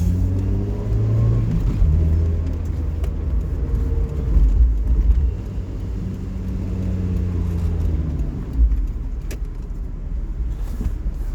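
Daihatsu Copen 1.3 16v engine on a city drive, heard from inside as a steady low rumble that rises and falls with acceleration and gear changes, fairly loud and continuous with no talking.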